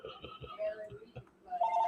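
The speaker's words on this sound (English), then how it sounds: "she heard the phone ring" A telephone rings in a home, a few short electronic trills breaking in alongside low background sounds and faint voices, moderately loud and close.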